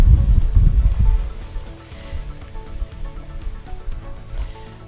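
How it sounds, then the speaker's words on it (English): Ribs and burgers sear on a grill with a soft, airy sizzle; a rumbling burst opens the moment, then the hiss settles lower and steadier. "I'm going to get these great looking ribs on the grill as well"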